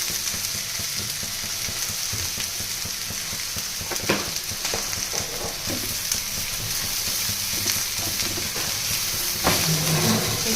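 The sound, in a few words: ghevda beans with turmeric roasting on low flame, iron kadai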